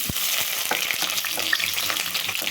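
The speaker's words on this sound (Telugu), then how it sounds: "ఆయిల్ అయితే హీట్ అయింది ఉల్లిపాయ ముక్కలు" Onion pieces fry in hot oil in a wide kadai, giving a steady, loud, close sizzle with a few sharp crackles and stirring scrapes throughout, with no voices.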